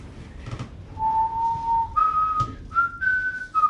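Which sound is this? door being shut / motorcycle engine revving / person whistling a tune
person whistling a tune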